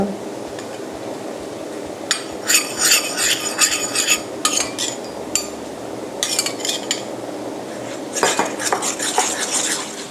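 Glutinous rice flour being mixed with pandan in a bowl, heard as bursts of clinking and scraping of a utensil against the dish, with quieter pauses between and no talk.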